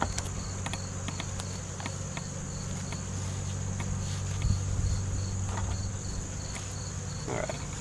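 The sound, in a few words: honey bees buzzing at hive during harvest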